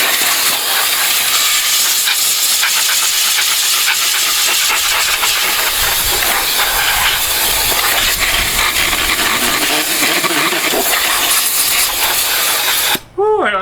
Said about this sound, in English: Let me blow the dust out of this thing.